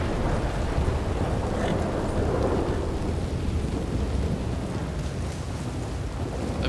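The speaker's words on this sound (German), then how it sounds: "Gewitter nicht unter den Baum stellen" A thunderstorm in the video game Red Dead Redemption 2 fills the scene with a steady roar of rain and low rolling thunder, dense and continuous throughout.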